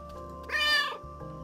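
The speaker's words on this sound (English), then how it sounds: "Hello, cat. Meow." A cat in the video game Calico gives a single short, clear meow over a faint steady background tone.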